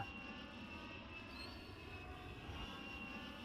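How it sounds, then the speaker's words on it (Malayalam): Steady broadband roar of an airplane engine passing overhead, continuous and fairly distant, with no voices. "വിമാനല്ലേ പോന്നേ"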